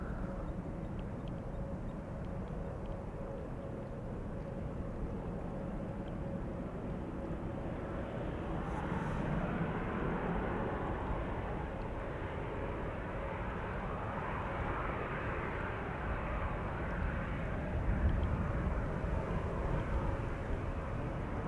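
A fixed-wing airplane at Schiphol Airport, first flown in April 2021, gives a steady, sustained engine roar at moderate distance. The sound swells slightly midway and holds broadband rumble and whine throughout, with no talk.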